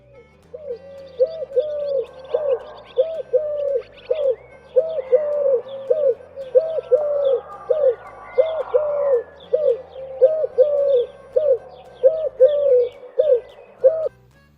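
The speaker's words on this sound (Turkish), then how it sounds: "Kumrunun sesini dinleyelim biraz." A Eurasian collared dove coos repeatedly in a steady rhythm of soft, hollow three-note phrases, close and clear, with faint chirps from other birds behind.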